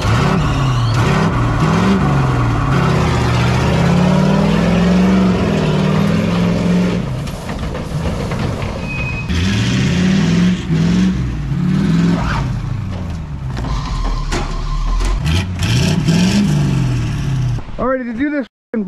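Twin diesel engines of a 17,500-pound street sweeper rumble and rev in repeated rising surges for a burnout, loud and close, before cutting off abruptly at the end.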